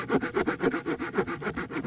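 A saw cuts through wood for a campfire in quick, regular back-and-forth strokes, a rhythmic rasp repeating about four times a second, close and clear with no talking.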